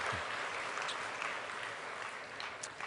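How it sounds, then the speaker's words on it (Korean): A church congregation applauds during a Sunday service to celebrate a seventieth birthday, with steady, fairly soft clapping that fills the whole moment without voices over it. "한번 축하 박수 한번 해드릴까요?"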